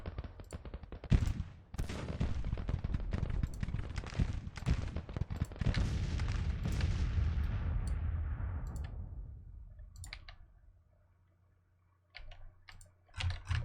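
Musket volleys in the Grand Tactician: The Civil War video game, with dense, overlapping crackling gunfire that rolls continuously for several seconds and then thins out into a few scattered shots.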